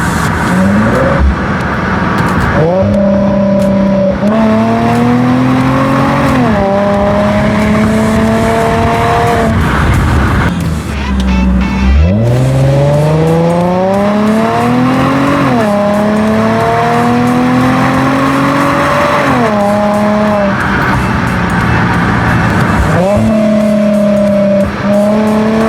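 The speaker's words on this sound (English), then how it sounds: "Just gonna do some cruising around with this beautiful 350Z" A silver Nissan 350Z cruises with its engine loud and close, climbing in pitch through each gear and dropping back between shifts, a continuous rising-and-falling drone with no talk.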